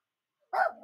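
A dog gives two quick barks close by, right after a moment of silence.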